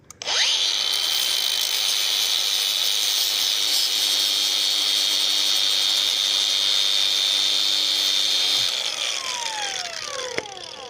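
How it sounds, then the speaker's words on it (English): An angle grinder cuts through a permanent outdoor light track, a loud steady high-pitched whine with no talk that spins down near the end. "sometimes I'll just take the angle grinder"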